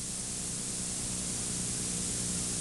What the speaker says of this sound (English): just barely open the bleeder valve in the air receiver until the hand rests exactly on the starting point